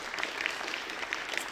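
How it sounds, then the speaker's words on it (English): Warm applause from an audience greets a guest at a talk on green finance, a steady patter of many hands clapping, moderately distant and fairly quiet. "I would ask for a warm applause for our guest today"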